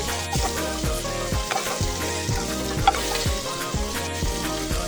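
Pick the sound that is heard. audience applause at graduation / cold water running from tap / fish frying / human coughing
fish frying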